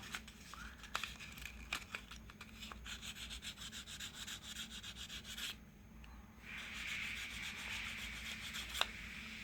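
Quiet, close rubbing of fine 1000-grit sandpaper on a Glock pistol striker, in short repeated strokes with a few light clicks and a brief pause midway.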